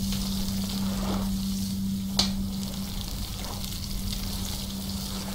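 Crab cooking over a campfire in the survival game Stranded Deep gives a steady, soft frying sizzle under a constant low hum, with one brief crackle near the middle.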